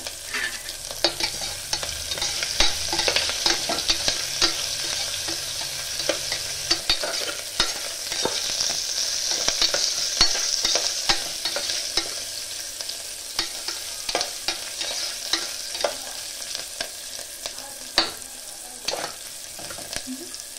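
Onions fry with salt in a pan for dhaba-style masala rice, a steady close sizzle running throughout with repeated scraping stirs and no talking.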